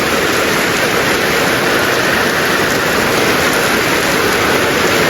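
Heavy rain pours constantly, a thick unbroken roar of drops hitting surfaces close by, with nobody speaking.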